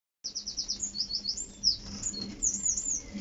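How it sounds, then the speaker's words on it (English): Birds sing in a garden, quick bright chirps and trilling phrases repeating in rapid runs, fairly close and clear over a quiet background with no voices. "Just listening to the bird song."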